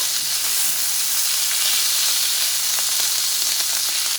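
Shrimp and pork frying in a pan give a steady, loud sizzle with crackles close by, unbroken for the whole stretch and without voices.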